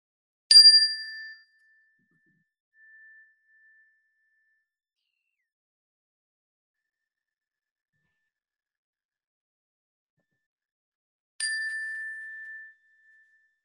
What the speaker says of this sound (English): This is going to be the last time I ring the bell.